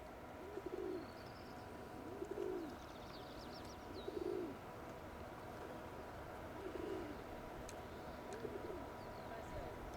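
Pigeons coo softly in repeated low calls spaced a couple of seconds apart over a steady background hum, with faint chirps higher up.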